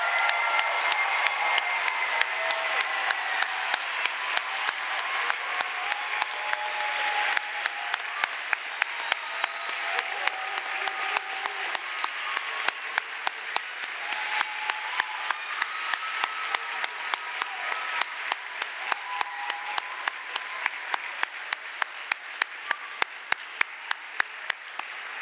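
A large crowd applauds at a medical school white coat ceremony. The clapping goes on for a long time, rippling and sustained with a steady, almost rhythmic pulse. Faint cheers and voices float above it now and then.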